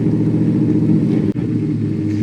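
A 1969 Chevrolet Chevelle convertible's V8 idles steadily nearby, a low, even rumble with a brief dip partway through and no voices.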